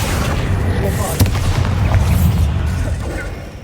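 Bombarda explosion spell cast in Hogwarts Legacy, a loud booming blast with a sharp crack partway through over continuous low rumbling game effects and music.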